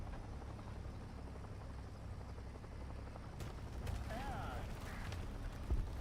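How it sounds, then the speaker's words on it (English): Helicopter rotor thrumming in War Thunder tank combat, a faint low rumble running under game noise with mechanical clanks and creaks. "I believe I hear a helicopter."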